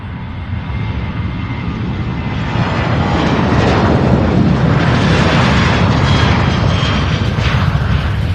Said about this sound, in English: So as that one lands, we have a Southwest 737.